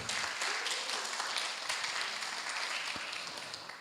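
An audience at a guest lecture on Filipino communication and culture applauds a speaker. The brisk clapping starts at full strength and then thins and fades over a few seconds.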